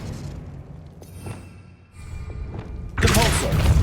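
The Expelliarmus spell fires in the video game Hogwarts Legacy: a few soft thumps and whooshes, then a sudden loud, bright blast near the end.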